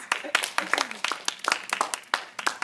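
A round of applause for a speaker at a high school debate, with scattered hand claps from a small audience. Voices talk and murmur underneath throughout.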